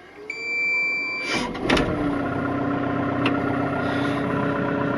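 A Caterpillar 305.5E2 mini excavator's diesel engine cranks, catches and settles into a steady idle close by, preceded by a brief electronic warning tone.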